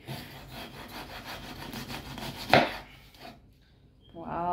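A knife cutting a British mackerel at home, a rhythmic scraping and sawing through the fish with one sharp louder stroke, then a pause before a voice begins.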